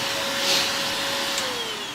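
A vacuum cleaner runs steadily at close range while being used to suck up a fly, giving a loud, constant whine with a slight pitch drift and no speech.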